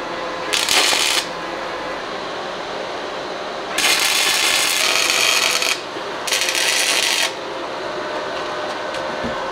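Tack welds on scrap metal for a homemade waste oil burner: three bursts of harsh crackling sizzle, a short one, a longer one and a medium one, close and loud over a low background hum.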